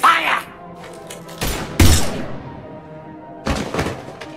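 Mass Effect 3 gunfire erupts in a few heavy bursts of shots and impacts, separated by brief pauses, loud and close, with battle noise around them.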